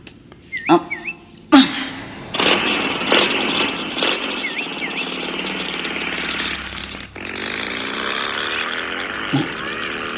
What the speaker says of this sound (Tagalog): Pagandara kon ti motorsiklo